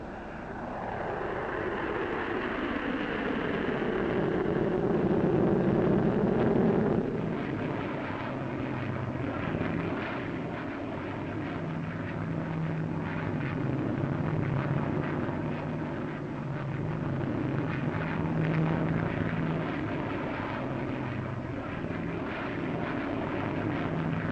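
Two Avro Vulcan delta-wing bombers take off at the 1953 Farnborough air show, a loud, sustained jet roar that sweeps in pitch as the aircraft pass and then settles into a steady drone with a low hum underneath.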